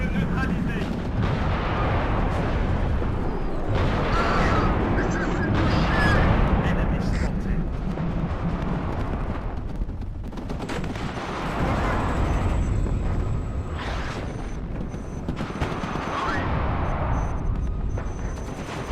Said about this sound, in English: They must have caught an artillery shell.